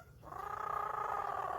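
Parrot imitating a cat, giving a single sustained, tonal meow-like wail that swells and holds for over a second, close and fairly quiet with nothing else around it.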